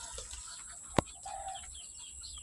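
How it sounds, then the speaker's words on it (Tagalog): Backyard chickens clucking softly in a yard alongside ducks, faint and scattered over steady background noise, with one sharp knock partway through. "Ganda mga manok."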